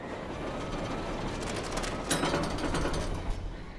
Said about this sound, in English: A mine train roller coaster rattling down the tracks at 45 kilometers per hour.